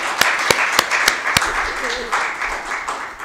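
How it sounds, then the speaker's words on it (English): A church congregation gives an evening round of applause for the Lord: a handful of crisp, separate claps at the start that quickly thin out, leaving a murmur of voices. "How about a round of applause for our Lord and Savior tonight?"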